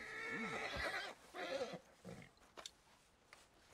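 A horse in the video game Red Dead Redemption 2 lets out a loud whinny up close, followed by a second wavering neigh and a few faint thuds.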